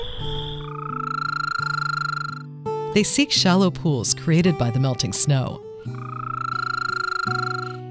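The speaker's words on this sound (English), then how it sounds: "The first to split the night are the voices of spring frogs emerging from hibernation." Spring frogs emerging from hibernation call at night around shallow snowmelt pools, a dense chorus of high, steady trills and peeping croaks running throughout, with someone narrating over the middle stretch.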